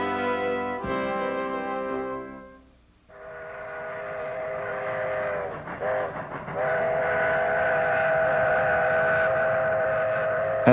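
Train on a railroad sounding a long, loud chord-like whistle that fades, then a second sustained whistle blast over rumbling wheels and steady clatter, with no talking.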